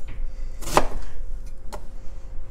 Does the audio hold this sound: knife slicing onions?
yes